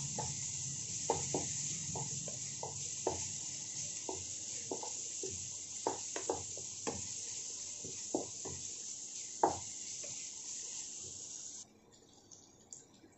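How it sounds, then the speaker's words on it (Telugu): Ginger garlic paste with coriander powder and garam masala fries in a pan for a raw mango chicken liver curry, giving a steady soft sizzle broken by scattered clicks and taps of stirring, close and fairly quiet. "పచ్చివాసన పోయే వరకు వేయించుకుందాము"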